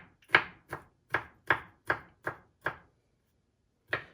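A knife chops food on a cutting board for three-bean chili, with seven evenly spaced sharp thuds, a pause, then one more, close and crisp with no talk.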